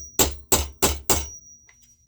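A hammer strikes solid rivets to form the shop head on aircraft rib assembly, four sharp, loud metallic blows in steady rhythm, each ringing briefly before a quiet tail.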